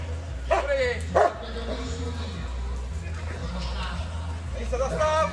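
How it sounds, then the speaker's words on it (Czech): A dog barks a few sharp times amid a tense police search, raised voices and talk from officers running underneath the yips and whimpers. "Dobrý, ale drž si to psa."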